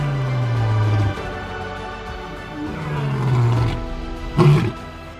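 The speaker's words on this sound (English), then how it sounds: "Scarface roars, his voice echoing." A male lion in the African wild roars near a buffalo kill, giving deep, drawn-out groaning calls that rise and fall in several bursts and sound echoing and fairly close.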